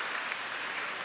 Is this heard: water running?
no